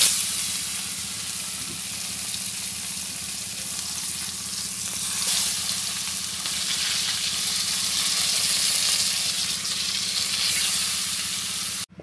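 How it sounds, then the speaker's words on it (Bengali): Fish frying in a pan of hot oil, a steady close sizzle and hiss that runs unbroken and fairly loud from start to finish with no talking. "এই তো আমার মাছ ভাজা হয়ে গেছে"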